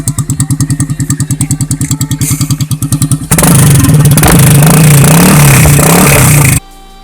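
A Honda MSX motorcycle engine with an aftermarket exhaust chugs at idle with a pulsing beat, then revs hard into a loud, sustained roar before cutting back suddenly.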